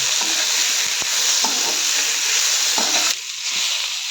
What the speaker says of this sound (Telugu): ఇప్పుడు ఇవి బాగా కలబెట్టుకొని వేయించుకోవాలి.